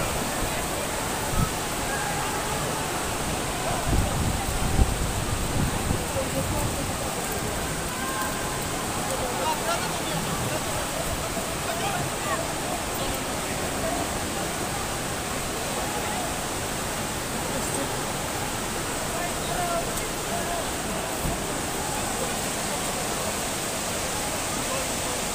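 Floodwater rushing through Petra in Jordan, a loud, steady broadband roar of torrent flow lasting throughout, with occasional faint voices in the background.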